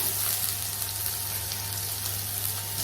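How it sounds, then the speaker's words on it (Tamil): Onions and curry leaves sauté in a pan for a vadacurry side dish, giving a steady, close, even sizzle with no pauses and no voices. "வெங்காயம் வதங்கட்டும்"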